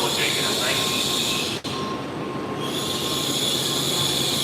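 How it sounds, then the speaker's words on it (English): Shinkansen Kodama bullet train bound for Tokyo rushes through Shizuoka Station as a steady, loud broadband roar that fills the whole stretch, broken by one sharp click midway. "This is the Kodama going to Tokyo now."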